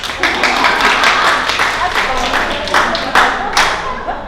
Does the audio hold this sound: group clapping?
yes